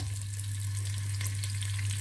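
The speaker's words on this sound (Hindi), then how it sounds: "प्याज थोड़ा सोते हो गया है" Chopped onion sautés in oil in a pan for a home-cooked bottle gourd curry, a steady close sizzle with a constant low hum underneath and faint stirring scrapes, no talk.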